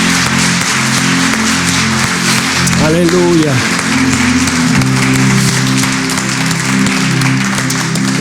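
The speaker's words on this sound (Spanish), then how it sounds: "¿Qué tal si le damos un fuerte aplauso?" A church congregation applauds as a loud wash of clapping under sustained worship music, while a voice calls out over the top.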